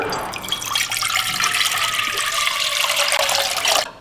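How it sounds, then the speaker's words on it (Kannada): About two litres of water pour into a cooking pot in a kitchen, a steady splashing gush that runs for several seconds and stops abruptly at the end. "ಫಸ್ಟು ಒಂದು ಪಾತ್ರೆಗೆ 2 ಲೀಟರ್ನಷ್ಟು ನೀರು ಹಾಕೊಳ್ಳೋಣ"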